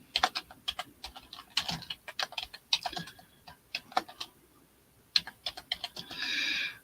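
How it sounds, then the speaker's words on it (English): Fast bursts of keystrokes on a computer keyboard at a live online auction desk, coming in irregular clusters with short pauses and ending in a brief steady rustle, close and fairly quiet with no one talking. "so I can go type, because I can't hold it up and type at the same time"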